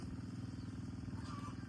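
A motorcycle engine runs steadily nearby at a construction site where hollow blocks are being unloaded, a continuous low rumble filling the whole moment with faint background voices.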